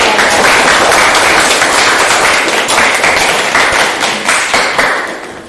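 A classroom audience claps for a student group after their presentation, steady dense applause filling the room, loud and close, slowly thinning toward the end with no talking over it.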